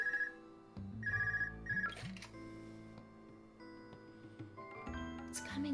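A portable orbment rings in Trails of Cold Steel, a repeating electronic ringtone in short bursts over soft game music, near and clear.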